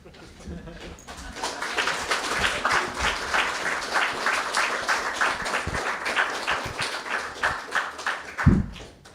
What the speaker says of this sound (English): get all the candidates to stand up and accept the applause of the audience